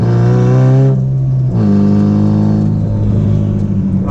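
A 510 whp Mitsubishi Evo 8 with a worn-out, slipping clutch launching hard: a loud, continuous engine roar with a brief dip in pitch before it climbs again, filling the whole clip with no talking.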